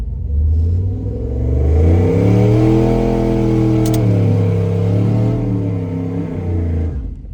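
A Subaru STI engine rumbles loudly nearby at a drag strip, its pitch rising and falling as it revs, with a steady throaty growl throughout.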